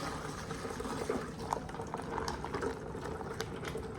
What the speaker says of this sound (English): we're gonna strain this into the Cambro